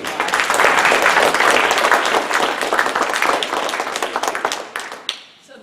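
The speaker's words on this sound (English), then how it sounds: "Can we give them a huge round of applause?" An audience at a conference breaks into loud, dense clapping that carries on for several seconds and then tapers off into a few scattered claps.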